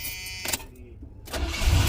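A 425 cubic inch V8 car at a donation car auction starts with a brief crank, a short pause, then catches into a low, close engine rumble that grows louder toward the end.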